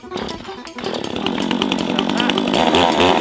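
A cheap Amazon-bought gasoline chainsaw starts with the choke in and roars into a loud, close, sustained run.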